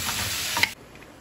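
Ramen and okra cook in a pan, a loud, close sizzle and a quick stir scrape for a moment before the frying abruptly drops away.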